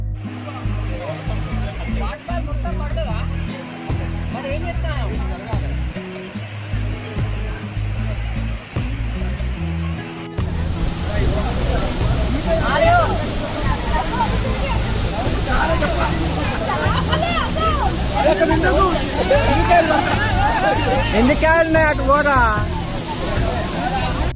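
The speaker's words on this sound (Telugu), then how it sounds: "ఈ విభూది జలపాతం ఏ కాలంలోనైనా నీటితో కూడుకుని ఉంటుంది" Vibhuti waterfall in Uttara Kannada, Karnataka, a steady broad rush of falling water that grows louder and nearer midway, with a crowd of visitors chattering and calling throughout.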